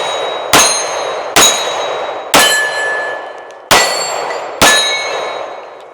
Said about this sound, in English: Let's go back to shooting. All right, reloaded. 15-round mag. Do a little one-handed, left-handed action.